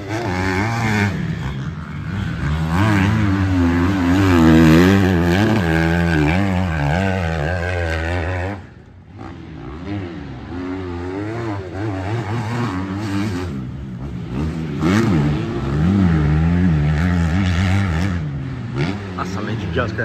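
A supercross motorcycle accelerating uphill on a dirt track, its engine revving hard in rising and falling sweeps, loud and near, then dropping briefly before pulling again, with someone talking over it.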